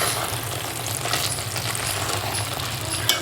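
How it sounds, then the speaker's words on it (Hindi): Spinach and potatoes with dried fenugreek leaves frying in ghee, a steady close sizzle with light stirring scrapes running the whole time and one small clink near the end. "ये हमने इसके अंदर मेथी डाल दी है, अपनी सूखी मेथी है ये। अब हम इसकी अच्छे तरीके से भुनाई करेंगे।"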